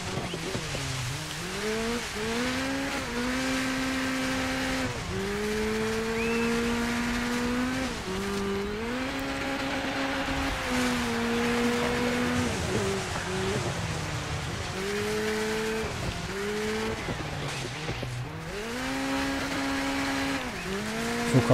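Rally car racing in the video game Dirt 5, a steady engine rising and falling in pitch through gear shifts, running continuously and prominently without talk.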